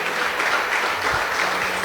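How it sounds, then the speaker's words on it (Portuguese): A church congregation gives a short, loud round of steady clapping in praise of Jesus, dense and continuous with no voices over it. "Dê uma linda salva de palmas ao Rei Jesus."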